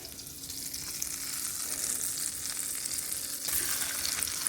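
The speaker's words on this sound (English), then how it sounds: "we're going to go ahead and add in our pork chops" Pork chops sizzling in melted butter in a hot pan, a dense, even crackling hiss that swells slightly toward the end with a couple of faint clicks.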